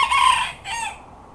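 A young Serama rooster gives a short, high, close crow lasting about a second, with a brief second syllable before it fades.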